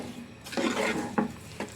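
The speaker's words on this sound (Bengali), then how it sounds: "এটাকে আস্তে আস্তে চিনিটা গলা অবধি এটাকে আমি একটু নেড়ে ছেড়ে দেব" Raw mango pulp and sugar being stirred in a pan on the stove: a few soft scraping and rubbing strokes with light clinks against the pan, close up and fairly quiet, with no talking.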